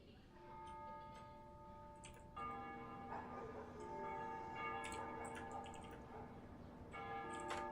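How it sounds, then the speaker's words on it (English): Church bells in a capital city in the Ace Combat video game ring at dusk, faint and distant, with long humming tones struck anew a few times over a quiet background. "They ring the bells here at dusk to honor the liberation of the capital"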